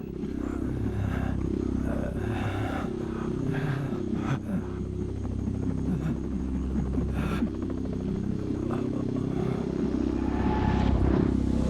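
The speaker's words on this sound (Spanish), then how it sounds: "El helicóptero se acercaba volando sobre la izquierda." A helicopter on a search and rescue mission approaches over the Luano Valley, its low rotor thrum and engine drone loud and continuous, with faint pulsing chop throughout and a slight swell toward the end.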